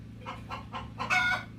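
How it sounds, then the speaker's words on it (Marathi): Gavran country chickens on a poultry farm clucking in a few short bursts, ending in a brief crowing call, close and fairly quiet with no talk. "गावरेन गावरान कावरी कोंबड्या आहेत"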